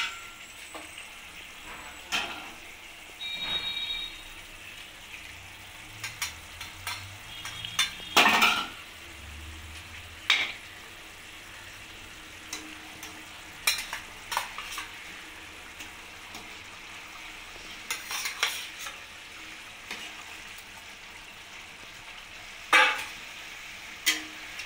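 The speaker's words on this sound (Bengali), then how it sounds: "ঝোলটা ভালোভাবে ফুটে গেছে। এবার আমি মাছগুলোকে এর মধ্যে দিয়ে দেবো।" Pomfret pieces going into a pot of boiling curry gravy, giving a near, scattered run of sizzling, bubbling and stirring with occasional sharp clinks of a utensil against the pot; no talking.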